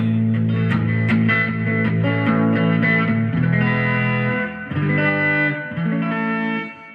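A distorted electric guitar, a Grote Firefly copy of a Gibson ES-125T hollow body on its mid pickup setting, plays chords and riffs, gritty and sustained, with a brief dip before continuing loudly.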